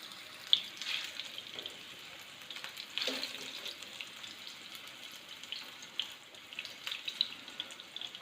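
Chicken seekh kababs fry quietly on a tawa with a faint, even sizzle. A few small pops and clicks stand out over the hiss, and no one talks.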